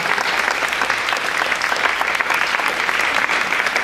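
A church audience claps warmly to welcome first-time visitors, a loud, dense, sustained applause that holds evenly throughout with no speech over it.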